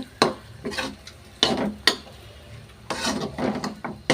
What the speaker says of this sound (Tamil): அதனால் இந்த கடாயில் அப்படியே கொஞ்சம் நேரம் வேகட்டும்.